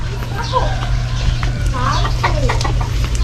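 A white bantam chicken clucks several times close by in a home yard, the calls rising over a constant low hum, with other chatter or speech-like sounds throughout.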